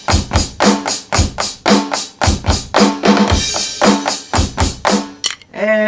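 A loud drum beat played on a Carlsbro CSD130 electronic drum kit: steady kick and snare hits in a driving rhythm, with cymbal crashes splashing in near the middle and end.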